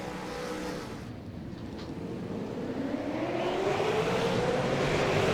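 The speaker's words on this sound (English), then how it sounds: "the guys are revving up, getting ready to go live here for an enduro race at Road America" V8 Supercars race cars at Road America idle and rev ahead of an enduro race start, a broad steady engine roar rising gradually in pitch and loudness, heard from a distance.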